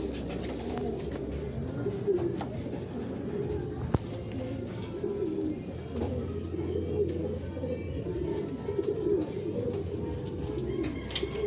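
Racing pigeons coo steadily inside a loft after returning from a race, a soft continuous layered murmur of many birds with occasional faint chirps and a quiet voice in the background.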